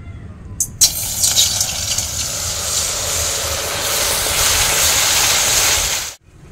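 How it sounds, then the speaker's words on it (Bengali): Water heating to a boil in a wok (kadai) over a gas flame, for homemade nolen gur rosogolla: a steady, close hissing and bubbling roar that runs without a break and then cuts off at the end, with no talking. "ফুটে গেছে, তো জলটা কিছুটা ফুটিয়ে নিয়েছি।"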